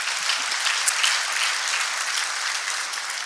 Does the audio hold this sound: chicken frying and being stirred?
no